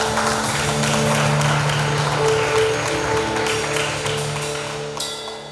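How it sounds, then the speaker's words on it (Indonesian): Wedding guests applaud at the marriage ceremony of Teniswan Waruwu and Dian Kristiani Gea, a dense, steady patter of many hands over sustained music tones, slowly fading toward the end. "Tepuk tangan untuk Tuhan"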